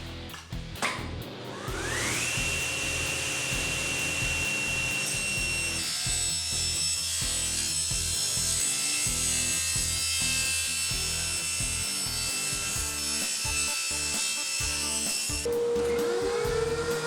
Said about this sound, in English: I'm going to resaw them on the table saw